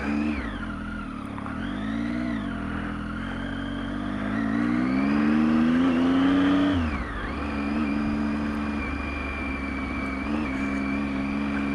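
A Triumph Tiger XCx motorcycle engine pulls away with a loud, steady drone whose pitch climbs and dips through several gear changes over about twelve seconds, with no voices.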